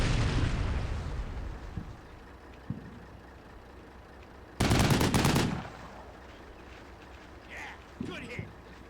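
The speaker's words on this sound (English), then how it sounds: "And of course the Stryker retaliates by putting some fire down." A Stryker vehicle fires in the Combat Mission Shock Force 2 war game, a loud rapid burst of automatic gunfire after a heavy opening boom, followed by fainter distant shots and rumbles.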